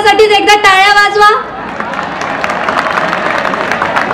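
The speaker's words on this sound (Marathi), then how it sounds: "सो सर्व MIT सगळेजण स्वतःसाठीच एकदा टाळ्या वाजवा" At an MIT college stage gathering, a voice is followed by a crowd breaking into sustained applause, dense clapping with some cheering that fills the rest of the moment.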